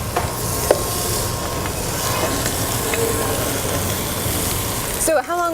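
Lamb shanks searing in hot olive oil in a heated pan, giving a steady, loud broadband sizzle throughout, with a brief clatter near the end.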